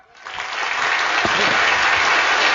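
A crowd at a Thai comedic stage performance breaks into sustained applause, clapping rising quickly and holding steady and loud, with faint voices mixed in.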